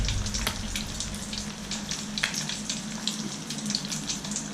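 Village-style fish fries in oil with a continuous crackling sizzle, close and fairly loud, dotted with small pops over a low steady hum.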